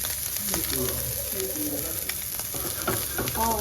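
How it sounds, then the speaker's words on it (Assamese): Prawns (misa mach) fry in a pan with a steady hiss and sizzle, while faint bird cooing sounds in the background. "বহুত দিনৰ মূৰত মিছা মাছ ফ্ৰাই কৰি আছোঁ"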